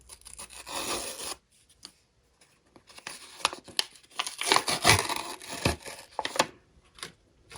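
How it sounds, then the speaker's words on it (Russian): Paper packet being torn open by hand during a paper-surprise unboxing, close and fairly loud: bursts of ripping and crinkling, a brief pause, then a longer stretch of rustling and tearing with no talking. "Я бы хотела сохранить этот пакет, но придется порвать."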